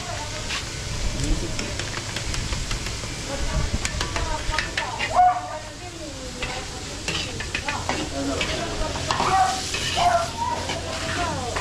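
Food frying in a pan, a constant loud sizzle with stirring and scraping at a birthday feeding, while people talk over the cooking.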